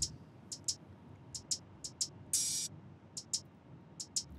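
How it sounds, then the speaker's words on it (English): Uncompressed hi-hats ticking in a loose, uneven pattern of short crisp hits, with one longer open hit in the middle, sitting fairly quiet over a low background hiss. "So the hi-hats sound like this."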